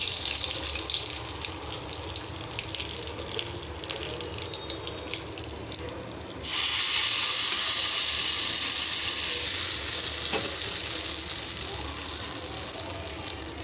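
Mustard seeds and curry leaves sizzle in hot oil for a Tamil bonda gravy, a steady close hiss that jumps louder and brighter midway as the leaves hit the pan, then holds a dense crackle with no talking.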